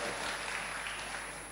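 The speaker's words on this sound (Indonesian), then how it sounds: "Boleh berikan tepuk tangan yang meriah." An audience at an Indonesian election-themed public event claps in a dense, continuous wash of applause that holds at a steady level throughout.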